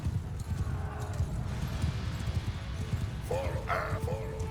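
Horses gallop in the medieval battle game Mount & Blade II: Bannerlord, a steady drumming of many hooves close by under battle noise, with a horse neighing near the end and a voice talking over it.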